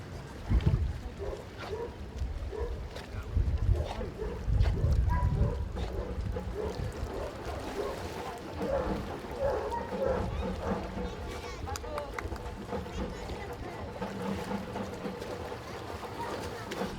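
A boat moves on water with a low rumbling hum and splashing during a dog water rescue contest, a dog swimming behind it, while voices talk intermittently over it.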